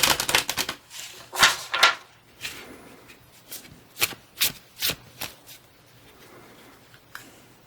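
A German-language Egyptian tarot deck being shuffled, with close, crisp riffles and card flicks in quick bursts separated by short pauses.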